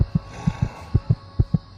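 Fast, pounding heartbeat used as a horror sound effect: paired low thumps repeating steadily, about four double beats in under two seconds, over a faint steady hum.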